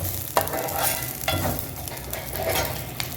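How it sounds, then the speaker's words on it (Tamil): Cumin seeds dropped into a little hot oil for mint chutney sizzle steadily in a pan, with a few sharp stirring scrapes and clinks of a spoon over the soft, even frying hiss. "ஸோ இப்போ ஜீரா போட்டுடுறேன்"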